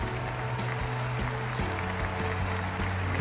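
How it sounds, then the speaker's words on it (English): Applause from a stadium crowd at a London 2012 Paralympic athletics medal ceremony rolls on, heard distantly under a steady tonal hum with repeating low tones. "Enthusiastic round of applause for the gold medalist"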